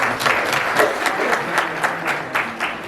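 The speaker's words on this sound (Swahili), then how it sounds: "Makofi yake jamani" A studio audience applauds to welcome a guest, with dense, steady clapping from a crowd close by and a voice briefly audible beneath it.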